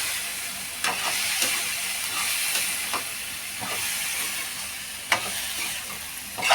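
Cauliflower frying in an open pan with ground pepper, a steady broadband sizzle with occasional scrape-and-clack stirring strokes against the pan, close and fairly loud throughout.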